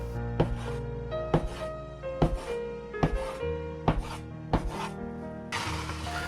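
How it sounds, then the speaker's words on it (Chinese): A knife chops a log of donut dough into ten small portions on a board, landing in steady, evenly spaced close thuds about once a second, with no talk. "然后用刀分割成10个小剂子"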